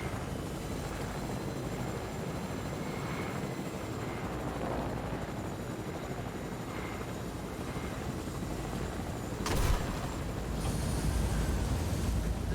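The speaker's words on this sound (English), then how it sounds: "We go back into this helicopter." Helicopter in a video game, a steady broadband rotor and engine drone held at an even level for the whole stretch, with a brief louder burst near the end.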